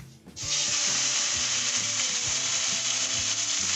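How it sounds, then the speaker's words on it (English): A steak dropped onto a smoking-hot pan bursts into a loud, steady sizzle within the first half second, holding strong and continuous with faint low clicks underneath. "So I'm going to drop the steak on there."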